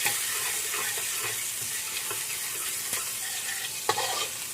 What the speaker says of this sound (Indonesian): Terus ini bawang putihnya kita masukkan. Kita tumis